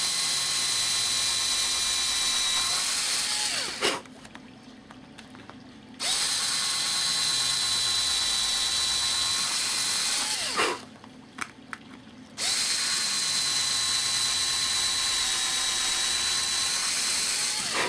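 A small drill bit whines steadily through wooden blocks in two long bursts, each followed by a short pause of quiet, close and fairly loud.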